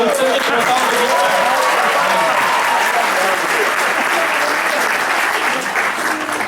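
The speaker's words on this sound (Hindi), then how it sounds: "एक बार पूरा सदन मिलकर पीछे तक तालियां बजाए" Audience applause at a Hindi poetry gathering (kavi sammelan) in Houston, a dense, sustained wash of many hands clapping that fills the room loudly for several seconds.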